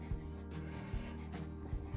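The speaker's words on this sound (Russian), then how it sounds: "Давайте я возьму какой-нибудь светлый карандаш." A light-coloured Cretacolor pastel pencil scratches and rubs across paper in soft, close strokes, with a few faint taps between them and no talk.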